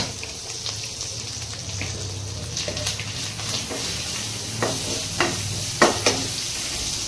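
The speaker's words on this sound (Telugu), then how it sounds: "అల్లం వెల్లుల్లి పేస్ట్ వేగిపోయింది." Ginger garlic paste fries in a pan with a continuous moderate sizzle, broken by a few louder scraping stirs toward the end.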